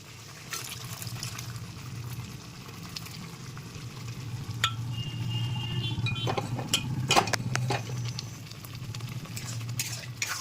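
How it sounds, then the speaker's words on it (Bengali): Kidney beans (rajma) tipped into an oil-released spice masala sizzle steadily in the pan, with stirring scrapes and clinks rising midway, close and moderately loud, no voices. "এইবারে আমি রাজমাটা দিয়ে দেবো।"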